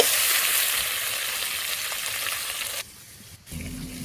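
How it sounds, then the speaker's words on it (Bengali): Bhog rice fries in a pan with a bright, steady sizzle for nearly three seconds, then the hiss drops away abruptly, leaving a short quiet gap before a low hum returns. "চাল ভাজা হয়ে গেছে"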